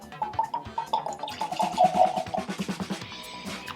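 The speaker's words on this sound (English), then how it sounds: "Let's pour a dram." Lagavulin 16 scotch whisky glugs from a bottle into a glass, with quick rhythmic pulses of pouring liquid, faint and close, without talk.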